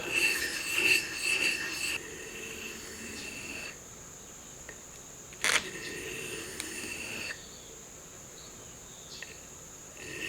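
A forged marking knife blade is sharpened on a 1000 grit whetstone, with a few quick, raspy scraping strokes at the start, then quieter rubbing and a sharp tap amid faint background hiss.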